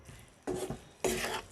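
Spicy pasta stirred in a pan with a spoon, two short scraping, clattering bursts of utensil against metal separated by near-quiet, close and fairly loud with no talking.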